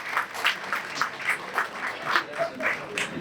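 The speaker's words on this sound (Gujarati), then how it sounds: "અંકિતભાઈ દેસાઈનું સ્વાગત કરીએ તાળીઓનો ગડગડાટ કરીને" Rhythmic group clapping from an audience welcoming a speaker at a Gita discourse, steady evenly spaced claps about twice per second, moderately loud with no talk over it.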